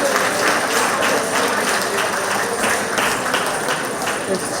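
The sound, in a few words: applause for the dancer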